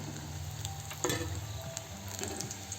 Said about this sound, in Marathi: आणि सर्व आलूबोंडा असेच तळून घेऊ